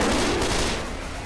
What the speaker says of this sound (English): I shot it a couple times